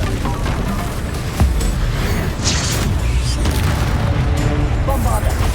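Fiery Confringo spell blasts in the Hogwarts Legacy video game boom loudly amid rumbling battle effects, a dense, heavy low-end barrage with sharper bursts punctuating a continuous roar.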